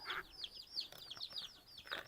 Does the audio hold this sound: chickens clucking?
yes